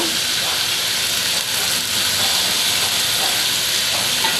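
Tomatoes hit beef frying in a pan, giving a loud, steady, close hiss of sizzling that stays constant throughout.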